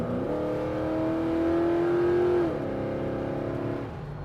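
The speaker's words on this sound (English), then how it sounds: "you can still hear the throaty V8 sound, but it's not droning inside the cab" A 1994 GMC OBS restomod pickup's V8 revs up from idle, rising steadily in a throaty climb that holds near the top, then drops back and settles into a steady idle, loud and close with no talking.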